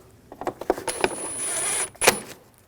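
Small screws being started and snugged down by hand while refitting parts during spark plug replacement on a 2006-2009 Audi S4 4.2L V8: a run of light clicks and taps, then a short steady whir and a final sharp click, close and quiet.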